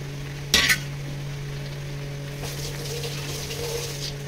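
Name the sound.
fried potatoes stirred into chicken curry masala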